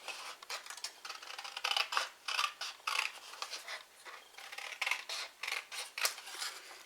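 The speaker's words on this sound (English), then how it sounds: "we need to use our scissors just to trim that away" Scissors snip repeatedly across the top of a paper box, a quick series of crisp, close cutting clicks in an uneven rhythm with short pauses between strokes.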